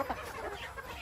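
Battlecross breed hens cluck softly in a quick, irregular series close by, a few short calls over a faint background murmur.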